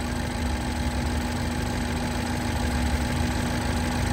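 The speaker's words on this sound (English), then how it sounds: "The fan is on high speed." On a 2012 Mini Cooper S, the air conditioning condenser fan runs on high speed, giving a steady, constant whirring roar with a faint tonal hum, close and unbroken throughout.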